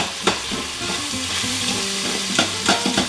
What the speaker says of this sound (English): We're sauteing the onions, and they're starting to pick up that yummy goodness down here